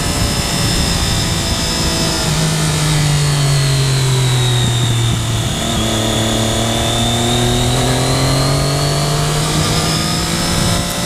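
A 2013 Triumph Daytona 675R triple-cylinder sport motorcycle engine revs loud and close while riding, a steady harmonic drone rising and falling in pitch with the throttle and wind noise underneath.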